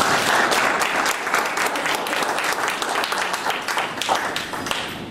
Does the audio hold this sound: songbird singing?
no